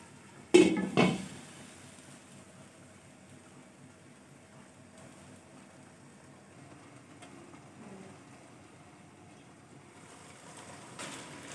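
A metal lid lands on a pot of chicken cooking on the stove, giving two close clanks in quick succession, then a quiet low simmer with faint scattered clinks.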